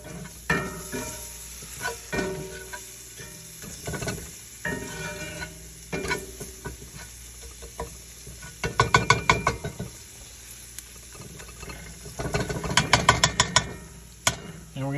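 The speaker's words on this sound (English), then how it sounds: "And then we're gonna add a little bit of flour as well. And I'm going to mix that all up." A spoon scrapes and stirs tomato paste and flour in a hot pan, making rapid rhythmic clicking bursts and soft sizzling, close and fairly loud, with no talking.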